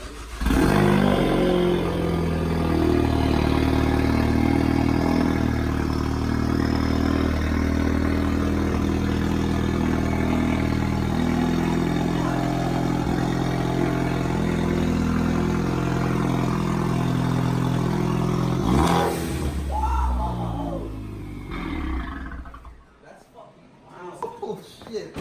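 Ford Focus ST with a 3-inch catless downpipe, its engine idling loudly with a deep, steady, rumbling drone for about twenty seconds, then cutting off; voices talk over the running engine.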